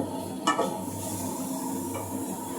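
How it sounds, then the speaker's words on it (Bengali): Onions fry in oil in a cooking pot, a steady close sizzle with a couple of sharp stirring clinks against the metal, no voices. "এখানে আবার পেঁয়াজ ভাজতাছি।"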